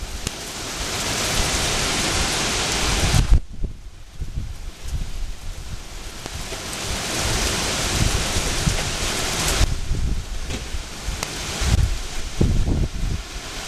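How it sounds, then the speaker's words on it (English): Heavy rain from Hurricane Irene in August 2011 roars steadily, driven sideways by gusting wind, with a brief lull partway through before the downpour surges back. "now the rain's coming down sideways a little bit"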